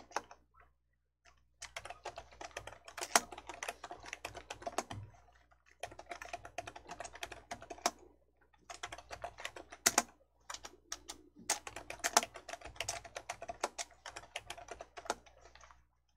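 Bursts of rapid typing on a computer keyboard, close and clear, during a Korean word-processing certification practice, with a few short pauses between runs and no talking.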